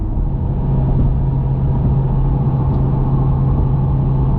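A 2020 Chevrolet Corvette C8 engine drones steadily from inside the cabin, a loud, even low rumble with no clear rev swings or distinct gear-change breaks, and no talking.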